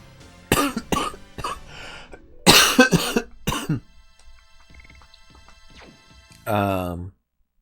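A person coughs and clears their throat in several harsh bursts close to the microphone, with quieter stretches between and a short vocal sound at the end.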